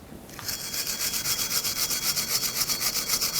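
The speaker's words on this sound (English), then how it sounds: "you're going to want to use a sanding disc of some sort and sand it flat" A sanding disc grinds against the rusted wheel hub face of a 2006-2010 Hyundai Sonata, a steady rhythmic abrasive rasp starting after a brief pause and pulsing evenly, loud and close with no talk.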